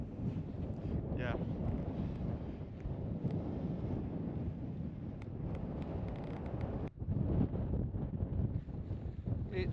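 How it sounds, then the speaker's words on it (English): Strong wind buffeting the microphone at a winter wild camp on Bleaklow Stones, a loud, continuous roar with gusty rumble and a brief drop near the end. "The wind is currently at 6 meters per second and it's 2 degrees."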